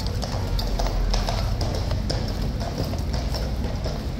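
A large horse's hooves clip-clop steadily on a hard surface at Horse Guards, an even walking rhythm close by over a constant outdoor crowd murmur.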